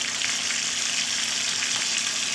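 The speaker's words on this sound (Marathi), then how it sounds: "तेलात टाकलं की असं एकदा आपण हे करून घ्यायचं आहे चांगलं हलवून घ्यायचं आहे" Bitter gourd slices with turmeric fry in hot oil, a steady close sizzle with a faint hum beneath and occasional soft stirring scrapes, no voices.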